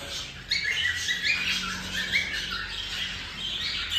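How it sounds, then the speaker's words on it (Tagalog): Many cage birds in outdoor flight cages squawk and chirp continuously, a dense, busy chorus of overlapping calls at moderate distance with no talking. "kung nakikita nyo mga kaibon, ayan sila"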